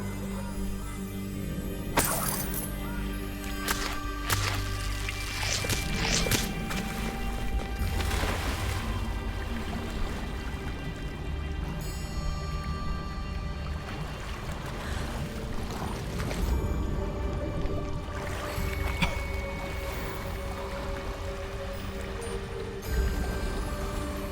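Waterfall in Hogwarts Legacy, a continuous rushing and pouring of water that runs throughout, with occasional sharper splashes and hits over it.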